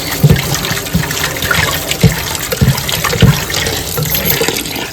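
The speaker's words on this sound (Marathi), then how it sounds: "आता आई एकदा धुवून घ्यायची कडक." Freshly cleaned small chivni fish are washed in water at home, a steady close splashing and sloshing with repeated rhythmic dunks of the fish throughout, no talking.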